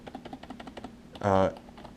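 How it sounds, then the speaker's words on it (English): Light keystrokes on a cheap backlit LED gaming keyboard, a steady run of soft taps like a muted mechanical board, briefly covered by a louder burst of voice in the middle. "It sounds like a mechanical keyboard, I guess, just not as clicky."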